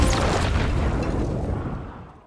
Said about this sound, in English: I use a stun grenade to slow them down